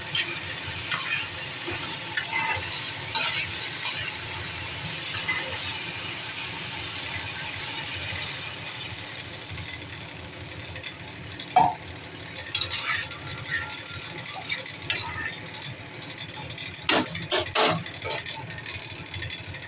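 A spice mix for fish curry fries in a pan with a steady, close sizzle, broken by intermittent spoon scrapes and a burst of louder clattering stirs toward the end.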